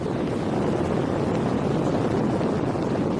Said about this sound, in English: This is the noise produced by the LEM's ascent engine during a ground test.